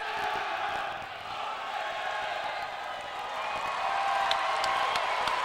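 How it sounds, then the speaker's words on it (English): A large crowd cheers at an arena football game as members of the United States Army are honoured, a broad, steady roar that swells slightly toward the end, heard from some distance. "They're cheering you here, a few members of the United States Army."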